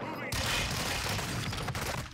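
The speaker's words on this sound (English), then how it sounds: "You shoot, did you shoot, Larry?" Gunfire in the video game Warzone 2: a dense, continuous burst of shots that starts abruptly and fills the whole moment, loud and close, with a voice talking underneath.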